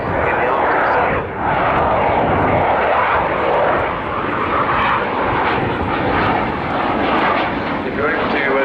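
Military aircraft flying past at the RIAT airshow, a loud, steady engine roar filling the whole span with only slight swells, while a voice talks over it.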